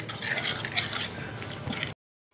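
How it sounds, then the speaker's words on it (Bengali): Spice paste, with a little water added, is stirred and fried in a pan for a paneer biryani, giving a close, continuous scraping sizzle with spoon strokes against the pan before it cuts off abruptly. "জল দিয়ে এবার এটা মশলাটা ভালো করে কষিয়ে নেব।"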